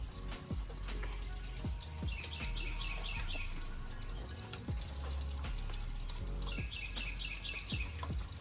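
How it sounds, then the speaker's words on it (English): Small birds chirp in quick repeating trills twice over a steady outdoor rush of running water in a small vegetable garden, with scattered knocks and rustling nearby. "Hear the birds chirping."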